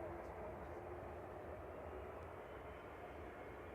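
An Aer Lingus Airbus A330-300 departing Manchester Airport for Orlando, a faint, steady distant engine roar that stays even throughout.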